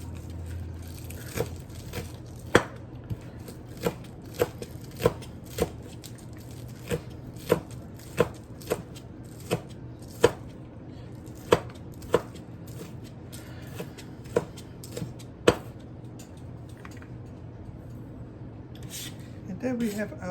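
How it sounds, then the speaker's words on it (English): A knife chops green onion on a cutting board in a regular series of crisp, close taps roughly every second, over a low background hum; speech appears to be present. "So I'm almost finished cutting my green onion."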